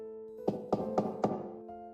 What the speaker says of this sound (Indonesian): Tiba-tiba terdengar ketukan di pintu, Dakyung mengira itu pelayan yang mengantark